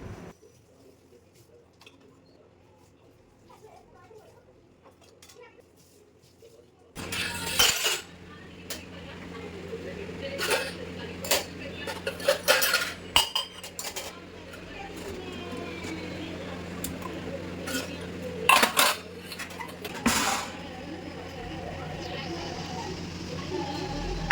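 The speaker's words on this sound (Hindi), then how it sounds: "खाना बनाने से पहले ये बर्तन साफ़ इसलिए कर रही हूँ" Dishes and cutlery being washed in a kitchen sink before cooking, with clattering clinks and scrapes of utensils and pots starting after a quiet opening and continuing steadily, punctuated by sharper knocks.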